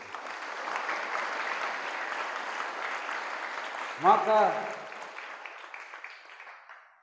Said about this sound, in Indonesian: Berikan tepuk tangan untuk Yasmija hari ini.